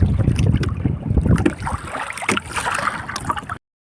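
Strong wind buffets the microphone in heavy gusts aboard an old, fragile small fishing boat, with the boat's motor and water noise underneath; it ends abruptly.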